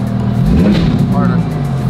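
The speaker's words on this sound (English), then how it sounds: "On the right side is the throttle. Just give it a little blurp and then let off." A car engine gets a quick throttle blip, a loud close rev that rises and falls within a couple of seconds, with voices speaking over it.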